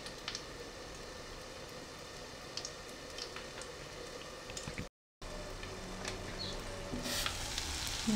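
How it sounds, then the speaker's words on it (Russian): Apple pancakes fry in a pan with a steady, close sizzle that runs throughout, briefly cutting out before continuing, with no talking. "первую сторону обжариваем, можно взять крышку и прикрыть крышкой"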